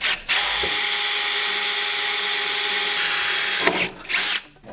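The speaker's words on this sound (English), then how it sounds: "So just drill a couple holes, machine screw them in" A power drill bores holes into the firewall of a twin-turbo Fox Body car, a loud continuous high whine running several seconds, stopping, then short bursts of drilling before it cuts off.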